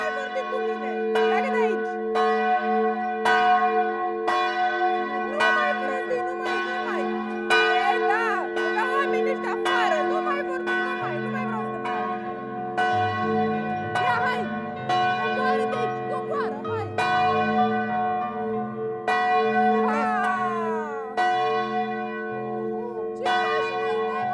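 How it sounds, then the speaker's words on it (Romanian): A very large, old church bell in a hilltop fortress rings, pulled by a chain, with loud, evenly spaced strikes and long, overlapping resonant hum that fills the space close up. "Nu îmi place să trag clopotul, dar mi-a plăcut ideea că erau alea foarte mari și foarte vechi"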